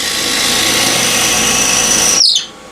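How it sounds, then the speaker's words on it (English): A power drill bores into walnut on a woodturning project, a steady high whine under load for about two seconds before the motor cuts off and spins down abruptly into quiet. "I'm going to drill a depth hole."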